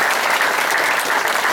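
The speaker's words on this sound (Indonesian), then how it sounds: "Tepuk tangan Compassion Jakarta" Dense, steady applause from an indoor crowd at a church gathering fills the whole short stretch, loud and close with no gaps.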